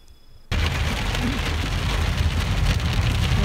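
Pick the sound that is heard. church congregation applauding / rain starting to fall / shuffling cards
rain starting to fall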